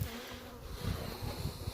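Honey bees swarming around a chimney cutout during a bee rescue, a dense, steady buzzing close by with a few louder passes as bees fly near.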